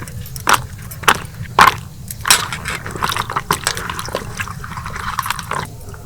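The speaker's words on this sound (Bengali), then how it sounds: "সিমগুলো ধোয়ার জন্য একটা বড় পাত্রের মধ্যে কিছুটা জল দিয়ে দিলাম এবার সিমগুলোকে ভালো করে ধুয়ে নেব" Flat beans are washed by hand in a large bowl of water, with sharp sloshing splashes and clatters that come in bursts near the microphone, then a busier run of lighter rinsing sounds.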